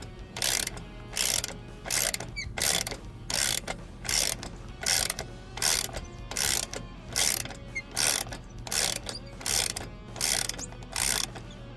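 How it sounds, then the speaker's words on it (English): Ratchet wrench backing out a Loctite-coated bolt on a Harley motorcycle: about fifteen evenly spaced bursts of rapid clicking, each roughly half a second long, close and fairly quiet, with no talking. "let's back this bolt out"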